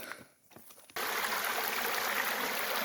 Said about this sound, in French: Une belle petite rivière.